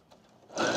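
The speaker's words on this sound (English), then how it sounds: "So I backstitched like 4 or 5 stitches back." A sewing machine backstitching fabric starts up from a low hum into a steady, close whirring stitch run, heard alone.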